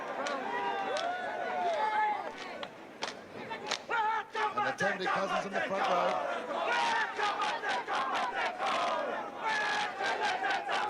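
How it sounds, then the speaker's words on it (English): Traditional haka war cry chanted in unison by a rugby league team before a match at Carlaw Park, Auckland, rhythmic shouted calls ringing out over a roaring crowd, with a commentator talking over it. "here's the traditional haka"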